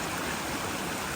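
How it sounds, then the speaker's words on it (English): A stream swollen by rain flows across a hiking trail, a dense, steady rush of water close by with no breaks. "this stream was not here last night"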